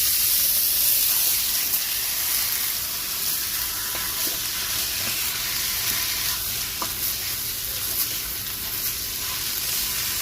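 Rice toasting in a pot for Jamaican rice and peas gives a steady, soft sizzle and hiss with faint stirring scrapes, continuous and close throughout, no voices.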